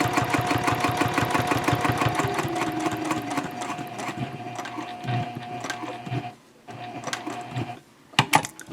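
A sewing machine stitching around a box on the exterior piece of an eco-friendly fabric shopping bag, a close, fast rhythmic whirring that slows, pauses briefly, then resumes in short bursts.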